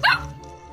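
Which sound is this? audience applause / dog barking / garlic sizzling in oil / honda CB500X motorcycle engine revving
dog barking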